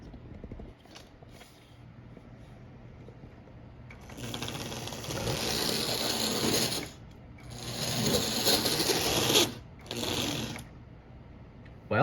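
A vintage Marx 898 toy steam engine runs on its track, giving a light whirring, clattering mechanical buzz in two or three bursts of a few seconds each, separated by quieter pauses.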